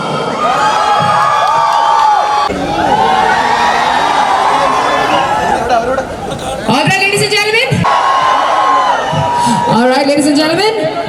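A large event crowd in Thamarassery claps and cheers loudly, with whoops, children shouting and excited chatter that swell in bursts and briefly drop before surging again.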